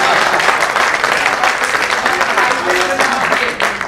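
Loud, dense audience applause at a 2018 mushaira poetry gathering in Allahabad, a continuous close clapping crowd filling the whole stretch with a faint voice buried in it.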